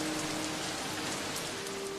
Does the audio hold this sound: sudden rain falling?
yes